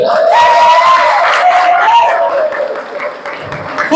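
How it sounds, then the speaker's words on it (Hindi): Audience at a college mental health awareness program bursts into loud, sustained applause, strong at first and tapering off over a few seconds, with a voice speaking over the clapping. "सर लोग जोरदार ताली"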